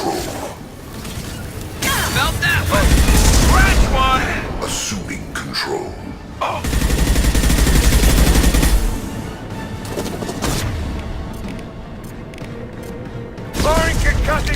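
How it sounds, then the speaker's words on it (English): A concussive shot fires in the video game Mass Effect. It comes as loud heavy bursts amid ongoing combat noise, and synthetic voices speak between the blasts. "Firing concussing shot!"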